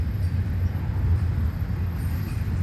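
A steady, loud low-pitched rumble comes from a combination freight train with multiple locomotives rolling by in flat Florida terrain.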